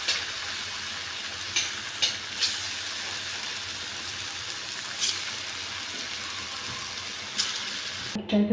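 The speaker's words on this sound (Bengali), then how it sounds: "তেলটা আমার গরম হয়ে গেছে আমি এবার বড়া ভেজে নেব" Pumpkin fritters sizzle steadily in hot white oil in a wok, a continuous close hiss of frying with a few brief pops and crackles scattered throughout.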